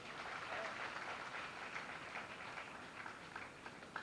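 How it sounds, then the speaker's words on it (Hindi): Audience applause during a Bhagwat Katha religious discourse, a steady wash of clapping from a crowd lasting about four seconds at moderate-to-faint level, with a voice faintly present underneath. "अरे ताली तो बजा दो।"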